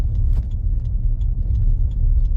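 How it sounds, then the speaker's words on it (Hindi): Cabin of a six-month-old Maruti Brezza CNG on the move, with a steady low road rumble and faint, scattered light rattles from the interior. No one speaks. "हल्की हल्की खड़खड़ाने की आवाज आ रही है"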